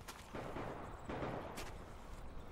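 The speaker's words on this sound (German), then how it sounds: "Schüsse." Gunfire in the first-person shooter Metro Exodus, a few heavy booming shots with rumbling tails, fairly loud with no talk over them.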